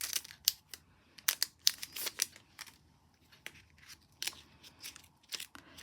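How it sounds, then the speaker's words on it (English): Scissors snip through stationery packaging in a quiet room, a run of crisp, close cuts and crinkles arriving in uneven bursts with short pauses between them. "I should use my brand new scissors, but let's just use the ones I've got to hand."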